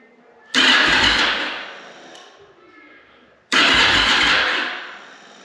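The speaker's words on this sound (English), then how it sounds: "Let's crank it a bit." A bobber motorcycle engine cranks in two separate loud bursts, each starting abruptly, churning for about two seconds and fading, with a quiet gap between.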